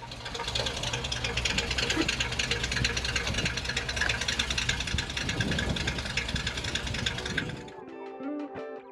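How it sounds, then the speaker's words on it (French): A vehicle engine idles close by after a cold start, a steady rough, even churning that carries on evenly before cutting off just before the end. "Un petit démarrage à froid pour le Vit 7i4."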